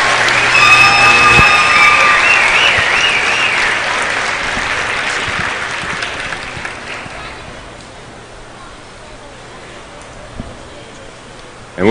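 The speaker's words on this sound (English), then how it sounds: "Give our new homecoming queen, Miss Maddie Murray, a round of applause." Crowd applauding and cheering loudly for a newly crowned homecoming queen at a high school basketball game, with a few whistles at first, the ovation gradually fading over about ten seconds.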